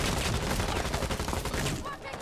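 Rapid automatic gunfire hammers a barricade in Rainbow Six Siege, a dense, loud, continuous burst of shots up close that cuts off near the end, with a voice faintly mixed under it.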